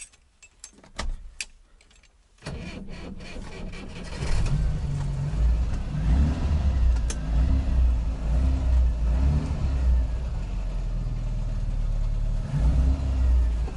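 An Izh Kombi motorcycle engine cranks briefly, then starts up and settles into a steady, loud, near running rumble that continues alone to the end.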